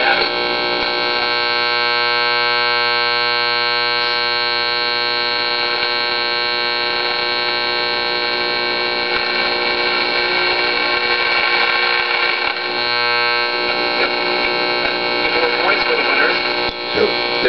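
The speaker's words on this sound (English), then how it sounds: "Got another station there, it just vaguely comes in." A mid-1960s clock radio tuned to a faint AM station outdoors, giving a steady hum and hiss with weak, barely intelligible programme audio fading in and out throughout.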